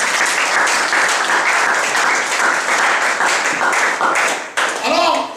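A church congregation bursts into loud, sustained applause and cheering during a French-language sermon, dense clapping filling the room before briefly dipping and a voice coming in near the end.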